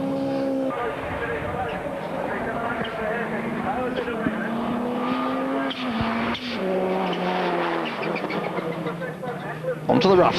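Powerful Saab rally car driven hard on a competition stage, engine note rising and falling through gear changes with tire noise on loose ground, running continuously under a commentator's voice.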